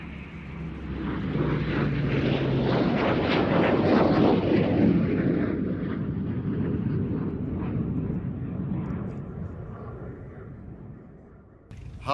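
An OV-10 Bronco propeller aircraft makes a low approach at an air show, its broad engine roar swelling loud as it passes close, then fading away into the distance.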